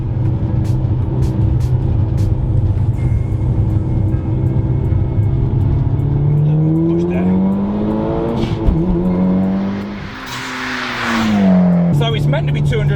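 A Mitsubishi Evo VI's turbocharged 4G63T engine pulls hard through the gears, its loud drone rising in pitch, dropping at a shift with a brief hiss, then climbing again; the car is heard from the inside.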